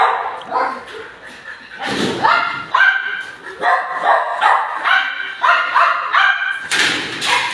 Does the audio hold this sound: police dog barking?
yes